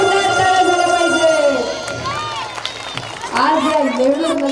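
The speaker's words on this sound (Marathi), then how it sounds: "जोरदार टाळ्या झाल्या पाहिजे." A large outdoor crowd at a Shivshahir performance claps and cheers while a singer's amplified voice carries over it, the clapping loud and continuous beneath the sustained vocal phrases.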